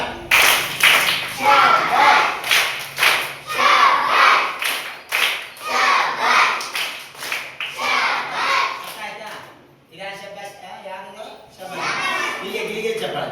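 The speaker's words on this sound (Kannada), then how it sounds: "ಯಾವ ಚಪ್ಪಾಳೆ? ದುಮ್ಮಿ ಚಪ್ಪಾಳೆ." A group of children clap their hands in a clapping game, with brisk, loud, repeated claps in bursts mixed with shouting and chatter, a short pause near the middle, then softer clapping and voices.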